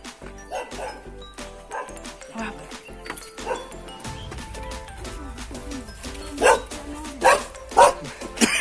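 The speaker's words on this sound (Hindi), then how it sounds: "डॉगी भी भौंक रहा है।" A house dog barks and yips repeatedly at a home in the Uttarakhand hills, sharp close barks in uneven bursts that grow louder toward the end, mixed with people talking.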